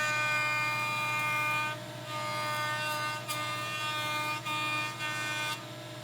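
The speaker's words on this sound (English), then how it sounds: "With the freshly edge jointed faces against the fence with a joiner, I'll square and flatten one adjoining face." Jointer squaring and flattening a face of a cherry bed post, a loud steady machine whine with a constant cutting hum running throughout.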